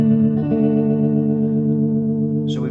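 Electric guitar played through the vibrato channel of a Vox AC30 TB amp with a non-working tremolo, one sustained chord ringing out with a slight wavering shimmer, close and loud, ending on a brief bright pick scrape.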